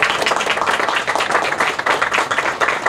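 Audience applauding city commissioners at the opening of the 28th annual West Palm Beach GreenMarket, a dense, steady burst of many hands clapping close and loud for the full stretch without a break.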